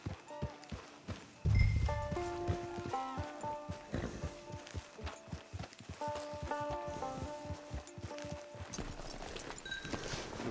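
Horse hooves clip-clop at a steady walking rhythm in the Red Dead Online video game, close and fairly clear beneath a bed of game music.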